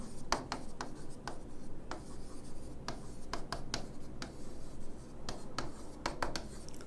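Math equations written by hand, with sharp irregular scratches of a pen or marker across the surface as strokes are made, close and fairly quiet.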